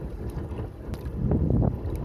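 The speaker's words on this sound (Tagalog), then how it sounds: "Medyo mahangin pa dito" Gusty wind buffets the microphone with low rumbling blasts while fishing, swelling louder midway, with faint water and boat sounds beneath.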